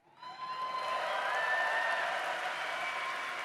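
Audience applause swells at Gamescom Opening Night Live, a dense, steady wash of clapping from a large crowd that holds for a few seconds, with faint sustained tones underneath.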